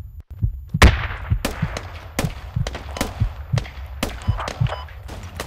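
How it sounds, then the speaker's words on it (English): Mortar shells exploding on a base in the tactical shooter Squad: a rapid irregular series of loud, sharp blasts and thuds, some close and heavy, others lighter, with no speech. "I got mortar shells coming down on the base."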